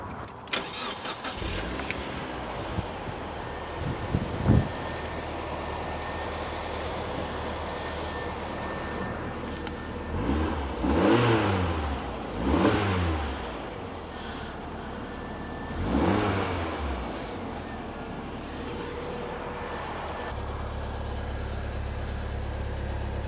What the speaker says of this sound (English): let's give it its first start up and see what it sounds like